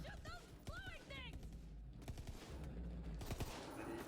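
Full-auto gun firing in a video game, a rattling burst of rapid shots mixed with whooshing, chirping game effects, fairly quiet overall.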